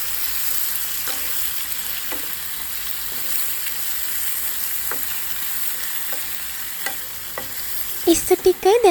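Prawns and squid sizzle steadily in butter for a seafood curry, a dense, even frying hiss with soft stirring scrapes at intervals and a brief burst of louder clatter near the end.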